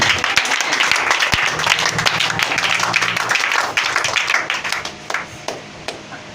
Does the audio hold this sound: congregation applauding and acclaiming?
yes